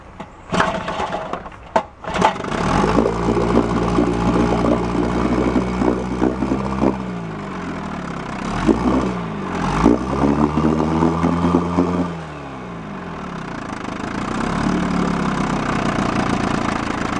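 A 1956 Evinrude outboard motor starts cold without choke after a few sharp pulls, then runs loud and close with a rough, uneven drone that rises and falls before settling into a lower idle.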